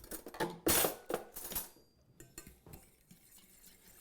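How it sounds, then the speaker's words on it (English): Sauce being stirred with a spoon in a bowl gives quick metallic clinks and scrapes, louder in the first couple of seconds, then softer, scattered taps, close and fairly quiet. "just give it a quick stir"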